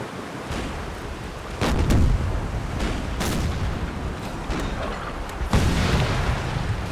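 Ship cannons roar in a naval battle in the game Imperial Splendour, with repeated heavy booms rolling into each other over a constant dense rumble of battle noise.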